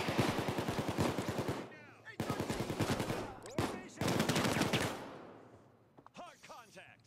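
Full-auto shotguns fire in the VR heist shooter Payday 2, with dense rapid bursts of loud blasts in several runs separated by short breaks, followed by quieter scattered shots and clatter toward the end.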